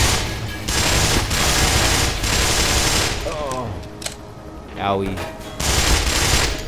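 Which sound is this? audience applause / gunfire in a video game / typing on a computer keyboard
gunfire in a video game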